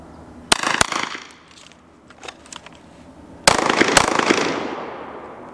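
Shots from a rifle, then a pistol after the transition: two loud, sharp pairs of cracks separated by a short gap, each trailing into an echoing decay, with a few faint clicks between and no voices.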